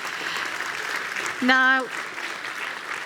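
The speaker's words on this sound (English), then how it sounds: "let's give the nice panel a good round of applause" A conference audience applauding a panel at an energy transition event, a broad steady wash of clapping throughout, with a voice briefly cutting in over it.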